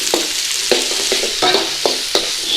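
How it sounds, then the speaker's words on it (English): Onions added to a pan of hot oil with spluttering cumin seeds sizzle steadily while being stirred, with repeated scraping stirs at a brisk rhythm, close and loud. "Start cooking our onions down"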